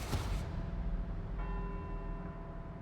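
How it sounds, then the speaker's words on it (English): Church bells ring in Edinburgh in the Forza Horizon 4 video game, with sustained tolling tones that linger and overlap over a low engine-like hum, moderately faint and without speech. "let's see if we can visit every bell tower in Edinburgh and get back here before they all stop ringing"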